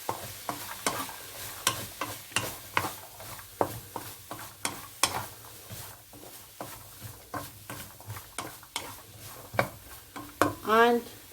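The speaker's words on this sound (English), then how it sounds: "And then you have to saute it as well." Carrots and other vegetables sautéing in a pot for soup, with repeated scraping stirs and knocks of a spoon over a soft, steady sizzle at close range.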